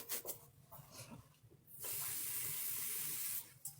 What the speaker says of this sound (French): je mets de l'eau froide